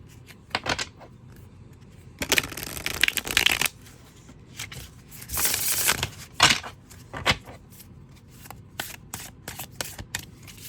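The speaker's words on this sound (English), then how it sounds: "It shuffles beautifully" Tarot cards being shuffled in close, crisp bursts of riffling and flicking, with brief pauses between rapid rustling passes and several longer shuffles.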